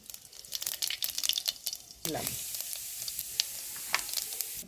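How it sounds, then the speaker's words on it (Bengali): Cumin seeds dropped into hot oil in a kadai for tempering, with potatoes waiting nearby. Light crackles give way to a sudden loud burst of sizzling midway, which then holds as a steady close hiss. "দুটো জিরে ফোড়ন দিলাম"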